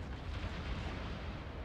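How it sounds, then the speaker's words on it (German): A continuous low, rumbling roar of naval artillery fire in World of Warships, steady and fairly quiet, with no voices over it. "da sind die Schüsse jetzt von ihm unterwegs in der Luft"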